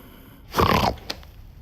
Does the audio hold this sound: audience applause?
no